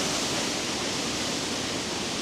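A waterfall at Disneyland Paris roars with steady, dense rushing water that fills everything evenly and continuously at close range, with no voices.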